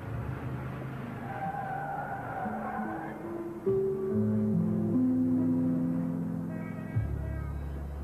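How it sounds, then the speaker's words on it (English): A car pulls away at close range with a loud, rising engine and a sustained tire squeal, in a soap-opera street scene after an argument; a low engine tone holds steady, then cuts off abruptly near the end. "Move the car, Gunther."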